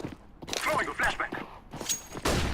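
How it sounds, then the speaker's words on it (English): A flashbang grenade is thrown in a video game, producing a handful of sharp, loud bursts and clattering impacts spaced across a couple of seconds, close up, with faint voices in the background. "Throwing a flashbang."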